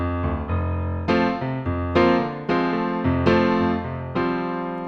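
Piano intro of a song: a steady sequence of struck chords and bass notes, each attack ringing and then decaying, played at a moderate pace close up, no voices.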